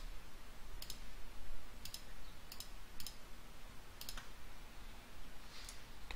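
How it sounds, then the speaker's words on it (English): Faint, sharp computer mouse clicks at a desk, about half a dozen spaced single clicks over a steady low background hiss. "And we'll right click on both of them"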